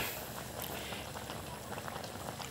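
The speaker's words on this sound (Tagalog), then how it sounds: "Yan, kumukulo na yung ating niluluto." A pot of coconut milk stew bubbling at a steady boil, with continuous gurgling and popping close by.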